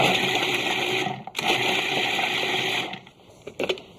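A food processor whirs loudly as it chops onions, running steadily for about three seconds before cutting out, with a short gap partway through and a few brief bursts at the end.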